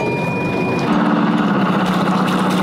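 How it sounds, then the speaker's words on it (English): A sailboat's inboard engine starts and settles into a low, steady running rumble, close and fairly loud, with a faint tonal whine before it catches. "let's get the engine started."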